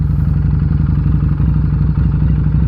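A motorcycle runs as the clutch is slowly released, a loud, close, steady low engine putter with even rapid pulsing and light mechanical clatter, no voices.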